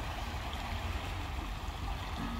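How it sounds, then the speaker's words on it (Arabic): Steady broadband rush of flowing river water in a forest near Hamburg, Germany, continuous and fairly even, with no voices. "سمعني صوت النهر محلى."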